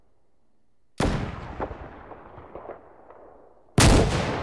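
Two loud gunshots in the video game DayZ, spaced about three seconds apart, each with a long echoing decay that fades out between them.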